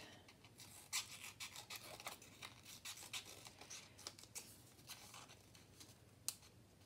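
Small scissors snipping paper into grass cutouts, a close, quiet series of crisp irregular snips and rustles, with a voice briefly audible.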